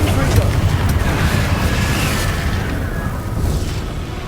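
A loud fiery blast from the Confringo spell in Hogwarts Legacy: a booming burst that rolls into a steady rumbling roar, fading slightly toward the end.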